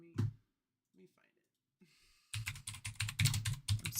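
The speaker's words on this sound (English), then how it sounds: "Y'all see how bad my typing is?" Rapid clattering keystrokes on a computer keyboard start a little past the midpoint, close and fairly loud, after a stretch of quiet broken by brief breathy vocal sounds.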